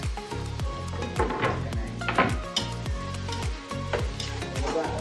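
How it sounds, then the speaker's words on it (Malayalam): Onions and tomatoes sizzle as they are sautéed together in a pan for a bachelor-style chicken curry, with a steady close frying hiss broken by repeated scraping and stirring knocks. "സവാളയും തക്കാളിയും കൂടിയിട്ട് വഴറ്റി വരണം"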